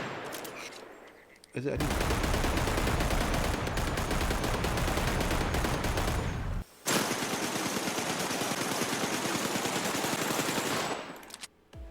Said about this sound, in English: Okay, now that sounds like a Deagle.